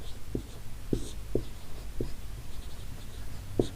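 Chalk or marker tapping and scratching on a board during a statistics lesson, a few short, soft strokes spread across a few seconds over steady room noise.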